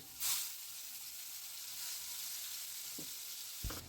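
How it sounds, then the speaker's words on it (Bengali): Onion and half a tomato ground to a paste drop into a hot pan of oil for a chicken curry, setting off a steady hiss of frying with a louder burst at the start and a couple of utensil knocks near the end. "এখানে আমি একটা পেঁয়াজ আর হাফ টমেটো আমি এখানে মিক্সিতে একটুখানি পেস্ট করে নিয়েছি এটাকে আমি এখানে দিয়ে দিচ্ছি"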